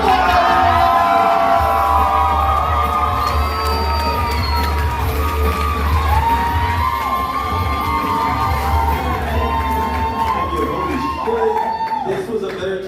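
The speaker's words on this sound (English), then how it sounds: "Make some noise for Angelo Graziano." Comedy club audience at the Tempe Improv cheering, whooping and yelling loudly as the next comedian comes to the stage, a sustained crowd roar with shouts throughout.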